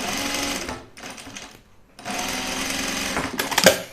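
A sewing machine runs basting stitches through denim jeans, whirring steadily in two long bursts separated by a short pause, close and loud with no talking.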